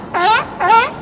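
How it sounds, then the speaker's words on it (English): A seal barks twice in the PC game Clifford Musical Memory Games. The two short, close, moaning honks have wavering pitch and come a half second apart, with no talking. "A seal."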